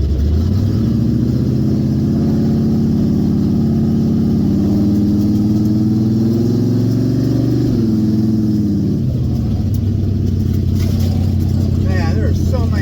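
A Chevrolet Vega engine idling high on a road: a loud, steady, close rumble that holds a constant pitch, climbs slightly, then drops to a lower idle near the end, with a person talking over it.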